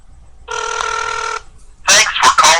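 Ringback tone of an outgoing call placed from an LG Optimus V phone, one steady electronic ring burst heard alone, then a voice begins answering right after.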